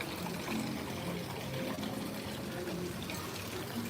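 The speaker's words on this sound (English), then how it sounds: "A little waterfall." A small waterfall trickles steadily into a fish pond in a green, rainy Bali garden, giving a constant close splashing and pouring wash with no breaks.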